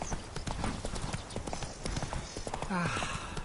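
The Witcher 3 video game's horse trots along, its hooves clip-clopping in a quick, steady rhythm throughout, with faint talk and game sounds underneath.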